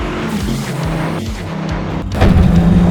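A Dodge Viper engine roars loudly and close, rising through stepped gear changes with brief dips before a harder surge near the end.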